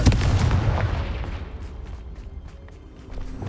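In Hogwarts Legacy, a Confringo blasting spell goes off as a heavy, booming explosion at the start. It fades into a long rumbling decay with scattered debris crackles.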